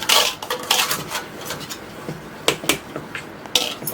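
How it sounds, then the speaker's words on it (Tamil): Cake batter with whipped egg whites is mixed in a bowl, giving irregular close scraping and clinking strokes of a utensil against the bowl, with no talking. "நல்லா மிக்ஸ் பண்ண வேண்டியது."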